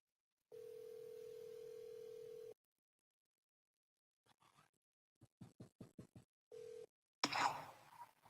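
An outgoing telephone call: a steady tone sounds for about two seconds, then a burst of quick dial clicks, a short second tone, and a crackly burst as the line connects.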